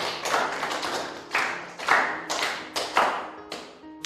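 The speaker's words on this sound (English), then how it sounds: "Clap for yourselves for being here." A group of students in a classroom clapping for themselves, heard as about eight loose, separate bursts of hand claps with sharp onsets, fairly close and moderately loud, with no talking over them.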